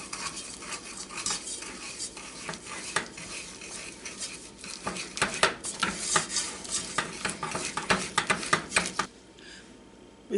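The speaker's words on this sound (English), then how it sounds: "bring to a boil, stirring constantly for 1 minute" Caramel for a salted caramel walnut pie is stirred constantly in a pot as it comes to a boil, with a spoon scraping and clinking against the metal in a busy, irregular rhythm close up, going quieter near the end.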